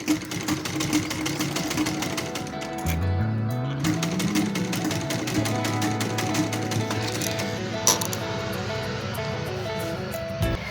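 Sewing machine stitching lace onto a small dress, a rapid continuous mechanical chatter with a rising motor whine, running steadily and close for the whole stretch.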